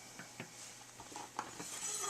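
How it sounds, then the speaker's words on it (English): Knife chopping garlic for marinara sauce, a handful of light, irregular taps on a cutting board, faint and close with no one speaking. "First, we're going to start by chopping up some garlic."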